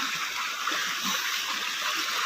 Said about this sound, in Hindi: वहां से पानी एकदम इकट्ठा होके आ रहा है इधर।